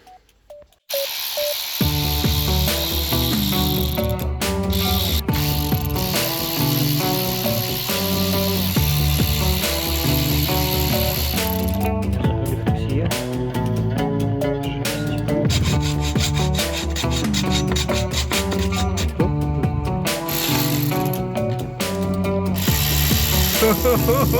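A cordless Leader ratchet driving bolts during a repair on an old Japanese car, a steady loud mechanical whirring and clicking that runs nearly continuously, with dense rhythmic ratchet texture throughout.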